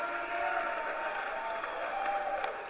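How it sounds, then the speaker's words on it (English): Crowd applauding steadily after a pin at a high school wrestling match between Triton and Pentucket, a sustained wash of clapping from the stands with no break. "gets a big round of applause from the crowd on the Pentucket side"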